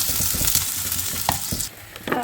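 Oil sizzling and frying in a pan for a Sri Lankan canned jackfruit curry, with stirring scrapes over a loud steady crackle that cuts out briefly near the end.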